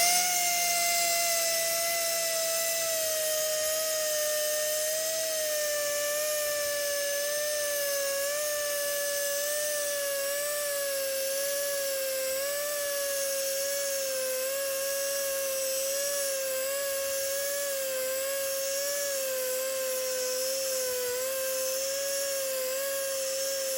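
A motor-driven polishing wheel spins at reduced speed while buffing stainless steel tubing with rouge, giving a steady high whine with a slightly wavering pitch that holds at an even level throughout, with no voices.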